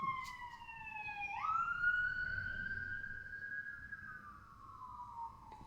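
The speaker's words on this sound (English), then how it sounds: "That's a siren." A wailing siren with a rising and falling pitch, heard fairly clearly against faint background rumble, with no talking.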